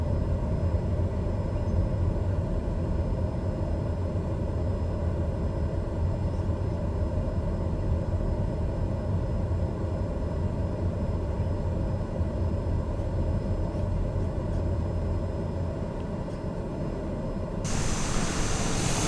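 Airliner takeoff roll in Microsoft Flight Simulator 2020: a loud, steady broadband jet engine roar holds throughout, then brightens with added hiss near the end.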